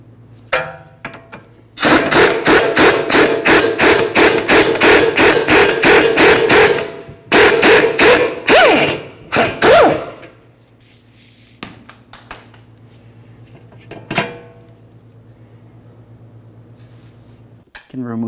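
Metallic ratcheting and clanking while a bolt is worked loose from the rear suspension of a 2013-2015 Chevrolet Malibu, a rapid burst of close, loud clicks followed by scattered taps and clunks, with brief talk.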